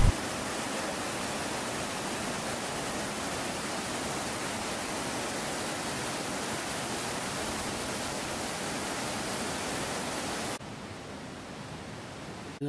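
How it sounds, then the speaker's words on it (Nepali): A mountain river near Api Base Camp roars in a dense, unbroken rush while people wade across it, loud and close throughout, easing slightly in level near the end. "अहिले चाहिँ खोला चाहिँ तर्ने क्रममै छन्"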